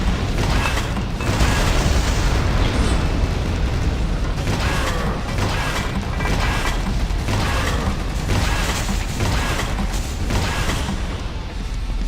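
Rocket fire and explosions from the Quake 2 mod Call of the Void, a dense, continuous barrage of booms and mechanical game noise that stays loud throughout.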